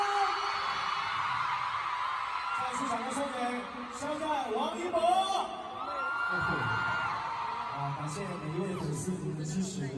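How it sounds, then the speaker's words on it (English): A fan meeting audience screams and whoops loudly in a large venue, with high cheering rising and falling over singing voices carried through the hall. "Ooh, screams."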